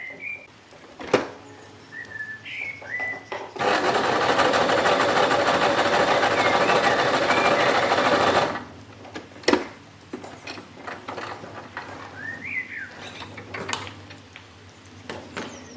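A Brother X3 sewing machine runs a straight stitch at a longer stitch length, a steady loud mechanical whir lasting about five seconds, set between quieter stretches of small clicks and handling noises.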